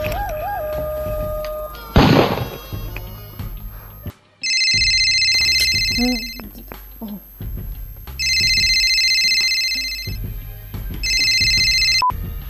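An electronic telephone ringing in repeated bursts, loud and close, with a few thuds and short sounds between the rings and no talking.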